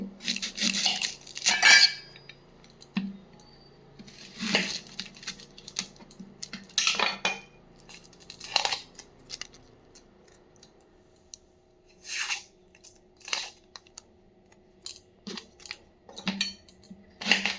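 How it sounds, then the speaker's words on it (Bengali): A green chilli and onion being cut for an oats and lentil paratha, with a series of sharp scissor-like snips and clicks in irregular bursts separated by quiet pauses, close by with no talking. "একটা লঙ্কা কেটে নিলাম আর পেঁয়াজ দিয়ে দেবো"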